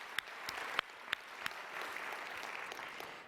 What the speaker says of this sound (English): let's give a big round of applause to this year's award recipients